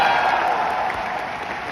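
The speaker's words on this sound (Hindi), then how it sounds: "एक बार आकाश जी के लिए जोरदार तालियां।" An audience at a live Delhi success event gives a round of dense, continuous applause that holds steady and fades slightly toward the end.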